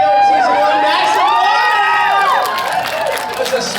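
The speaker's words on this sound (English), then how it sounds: "That's a smattering of applause" A convention audience at Toronto Comicon cheers and whoops loudly and close by, with overlapping shouting voices and scattered applause that fade a little toward the end.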